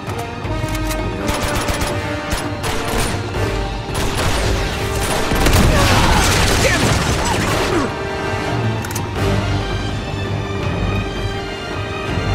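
Sustained gunfire and crashing impacts in the video game Uncharted 2: Among Thieves, loud and continuous with repeated shots, a denser stretch in the middle, and some speech mixed in.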